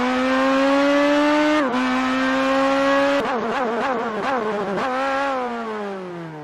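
A Porsche Cup race car at full throttle on a circuit, its engine note climbing loud and close, with a brief lift and gear change, then a rapid burst of downshifts with blips before it pulls away again.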